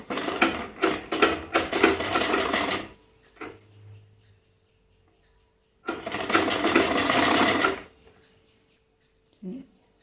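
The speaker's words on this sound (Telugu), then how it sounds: "సైడ్ క్లాత్కి కూడా ఇలాగే ఒక క్లాత్ పైన పెట్టేసి స్టిచ్చింగ్ వేసుకోవాలి" A sewing machine stitches blouse cloth in two running bursts of rapid, whirring needle pulses, each a few seconds long. Quiet pauses with faint handling sounds fall between them.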